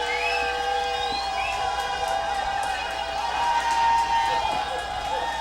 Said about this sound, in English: There's a lot of excitement in the crowd, in the stands right now